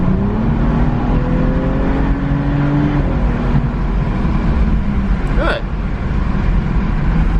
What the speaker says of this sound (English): I'm gonna floor it.